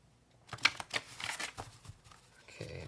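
Tarot cards riffled and split by hand, a few quick crisp flutters and soft slaps close by, followed by quieter handling noises.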